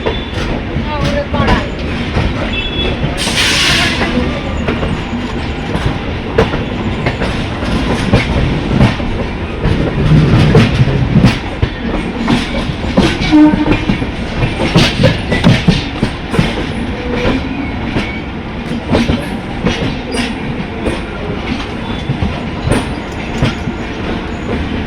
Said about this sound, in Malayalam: മഹാരാഷ്ട്രയിൽ ട്രെയിനിൻ്റെ ആദ്യത്തെ സ്റ്റോപ്പായ വസായി റോഡ് റെയിൽവേ സ്റ്റേഷനിലേക്ക് ട്രെയിൻ എത്തിക്കൊണ്ടിരിക്കുകയാണ്